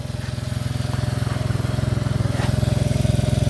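A Smart ForTwo's small engine runs steadily with a rapid pulsing throb that grows slightly louder as the throttle rises, with faint chattering noises over it.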